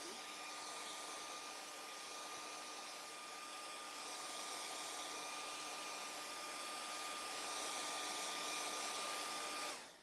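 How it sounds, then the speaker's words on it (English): A handheld blow dryer runs steadily to dry paint on a quilted cross door hanger, a constant close whirring hum with a faint whine, no talking, cutting off abruptly at the end. "I'm using my blow dryer just because I was too lazy and didn't unhook it and hook up my heat it tool"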